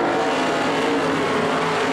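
Sprint cars racing on a dirt track, a loud continuous roar of several engines blending together with no gaps, close and alone without any commentary.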